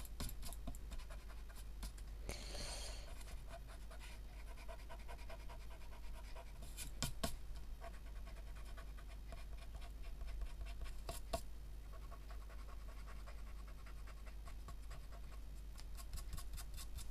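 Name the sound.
pencil drawing on paper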